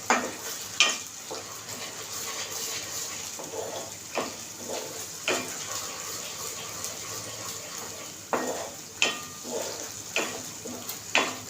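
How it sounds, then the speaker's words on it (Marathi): Masala gravy for a paneer sabji fries in hot oil in a pan. A steady sizzle runs throughout, with stirring scrapes and clatters close by and no voices. "अशी ग्रेव्ही आपल्याला त्यामुळे तेलामध्ये भाजून घ्यायची"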